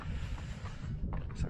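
Cold wind on the Everest Base Camp trek buffets the microphone as a steady, low rumbling roar with no voices.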